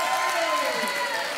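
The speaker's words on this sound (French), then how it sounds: "On vous applaudit." Steady applause from a French TV game show studio audience, dense and even throughout, with a faint crowd murmur mixed in.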